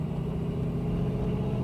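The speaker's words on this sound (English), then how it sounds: "it's got a nice rumble to it. That LS making some power" Deep, steady low rumble from the LS V8 engine of a 1984 Chevrolet Blazer K5 4x4 restomod idling nearby, a constant throaty drone with no voices.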